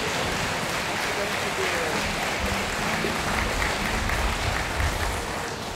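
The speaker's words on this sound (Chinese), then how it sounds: "掌声掌声，再一次去感谢他们" Steady audience applause at a Christmas carnival, following a warm song performed on stage; a dense, even wash of clapping holds for several seconds without a break.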